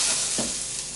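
Vegetables charring in a hot Dutch oven over high heat, a brief burst of bright, hissing sizzle with a short stir or scrape in the middle.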